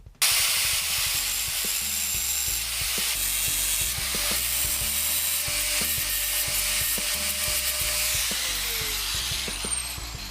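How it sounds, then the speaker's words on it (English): A power tool cuts off the protruding ends of screws on a wooden keyboard platform, giving a continuous close grinding, whirring rasp with rhythmic clicking texture for about ten seconds. "Now we're going to cut the end of these screws off"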